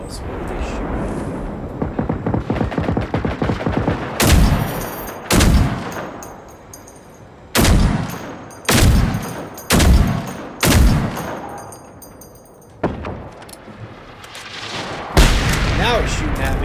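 Bursts of gunfire from robot enemies in Generation Zero, a shooter game set in 1980s Sweden, crack out as a dozen or more loud volleys with gaps between them over a steady background rumble.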